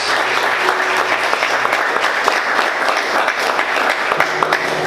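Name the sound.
church congregation applauding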